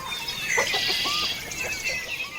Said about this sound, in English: tag along with one of their organic pasture-raised hens as she heads out for her day in the pasture